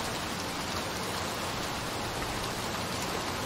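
Steady rain pours in the video game Little Nightmares 2, a dense, even hiss of falling water with no pauses, filling the whole scene at moderate loudness.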